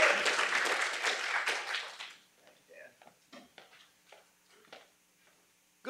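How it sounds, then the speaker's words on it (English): Lecture audience at John Jay College gives a short burst of applause for a speaker, about two seconds of full clapping that dies away into a few scattered claps and small knocks. "So if you'll give a round of applause to Dr. Goff."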